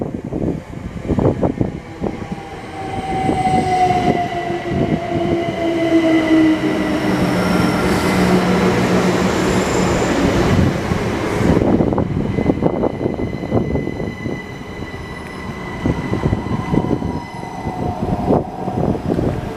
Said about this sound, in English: Now arriving in is another Class 387 Great Northern service off to Cambridge